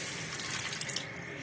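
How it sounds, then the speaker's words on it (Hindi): Tap water runs steadily into a saucepan holding a cup of sugar, about half a glass poured for sugar syrup, a soft continuous splash and trickle throughout. "तकरीबन मैंने हाफ गिलास पानी डाल दिया और हाफ मैंने रख लिया है।"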